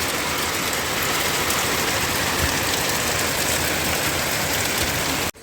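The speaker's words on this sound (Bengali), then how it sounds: "দেখো একবার তোমাদেরকে বৃষ্টিটা দেখে দেই" Heavy morning rain pours steadily at a resort with hills in the distance, a dense, loud, even patter that runs throughout before cutting off sharply at the end.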